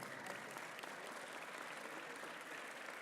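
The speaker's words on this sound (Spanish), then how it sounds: "para el cual pido un fuerte aplauso" An audience at a public forum claps in steady, dense applause, even and sustained for a few seconds, heard a little distantly with no voices over it.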